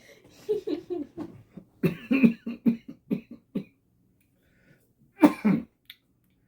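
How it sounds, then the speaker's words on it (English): A run of short, rough coughs in quick succession, then a pause and a final pair of harsh coughs; close and fairly loud. "Still not over the cough."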